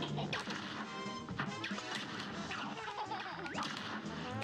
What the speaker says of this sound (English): forgot that the babies throw bottles out of the glass.